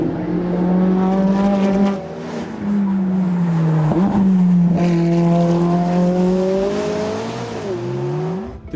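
A McLaren 570S's exhaust roars loudly nearby, engine note rising and falling through gear changes as it drives up the hill at the Goodwood Festival of Speed, with a crowd murmuring faintly behind.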